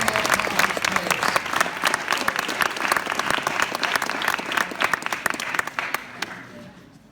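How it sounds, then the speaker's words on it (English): An audience at a high school football banquet claps loudly and steadily for several seconds before the applause starts to fade at the end. "Let's give these guys a round of applause."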